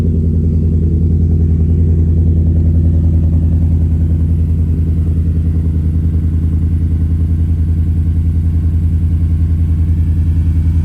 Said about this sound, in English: This one has the MBRP exhaust with the muffler and resonator. Still sounds killer in the morning.